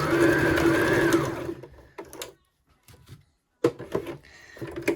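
A sewing machine runs a seam across skirt fabric, whirring loudly and steadily for over a second, then slowing and stopping, followed by short bursts and quiet pauses.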